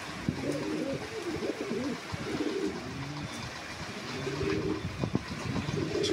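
Fancy pigeons, including Red Lahori birds, coo repeatedly at a pigeon farm, their soft rolling calls close and steady over a low background hum.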